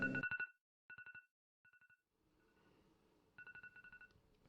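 A phone sounds in short bursts of rapid electronic beeps, three quick clusters, a faint pause, then another burst, fairly loud and clear over a quiet background.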